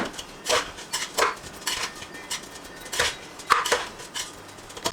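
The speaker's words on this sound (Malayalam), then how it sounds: "അരി ചേർത്തതിന് ശേഷം ഒരു 3 മിനിറ്റ് നന്നായിട്ടൊന്ന് റോസ്റ്റ് ചെയ്തെടുക്കണം" A metal spoon scrapes and clinks against a pressure cooker as washed rice is roasted for vegetable biryani, with repeated close stirring strokes at an irregular rhythm and no voices.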